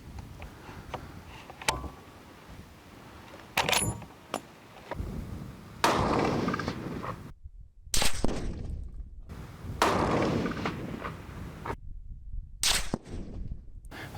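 Several sharp rifle shots crack out during outdoor test-firing of lead and copper bullets, each a loud abrupt blast followed by a brief decay, spaced a few seconds apart with faint handling noises between.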